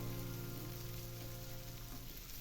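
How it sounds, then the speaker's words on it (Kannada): Onions frying in a pan, a steady, even sizzle with a soft crackling hiss that holds at a constant moderate level throughout, without any talk. "ಈರುಳ್ಳಿನೂ ಸಹ ಒಂದು ಎರಡು ಮೂರು ನಿಮಿಷ ಚೆನ್ನಾಗಿ ಎರಡು ನಿಮಿಷ ಚೆನ್ನಾಗಿ ಫ್ರೈ ಆಗೋದೆ"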